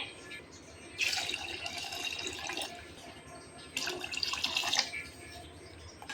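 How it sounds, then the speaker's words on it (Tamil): Water pours into a cooking pot in two bursts, a steady splashing rush that stops, then resumes briefly, with quiet room noise between. "ஸோ இப்போ நம்ம தண்ணி சேர்த்துக்கலாம்."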